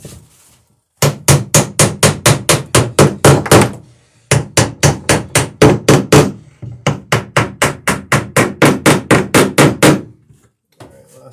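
A ball peen hammer strikes copper nails into wood in steady, rapid bursts of sharp blows, loud and close, with two short pauses between runs of hits.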